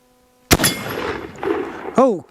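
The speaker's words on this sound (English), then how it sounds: "We're going to shoot 5 rounds out of each, so we've got one in the chamber here to get started." Winchester 1886 .33 caliber takedown rifle firing at a steel target: a loud sharp shot with a ringing metallic clang, then a second shot near the end, close and with no talk.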